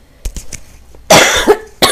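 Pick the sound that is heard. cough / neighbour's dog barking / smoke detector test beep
cough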